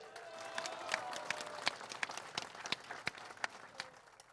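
A crowd at a presidential groundbreaking ceremony for Luis Arce gives a faint, somewhat distant round of applause, with distinct individual claps standing out from the steady patter.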